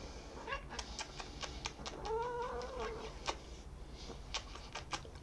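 An indoor pet cat gives a single drawn-out meow midway, close and clear, amid scattered soft clicks and taps in a quiet room.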